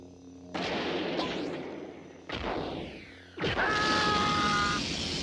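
Laser gun blasts from the film Alienator, three sharp loud bursts with sweeping, descending tails and a lingering electronic hum after the last shot.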